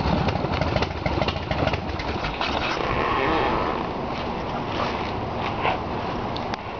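A 110-cubic-inch Independence pro street motorcycle engine idles with a loud, rough, throbbing rumble, steady and close throughout.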